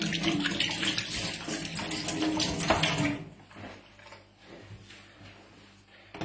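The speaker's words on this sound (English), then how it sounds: "Just going to wash my hands." Water runs from a kitchen tap as hands are washed, a close, steady splashing rush for about three seconds before it is shut off, leaving faint handling noises and room hum.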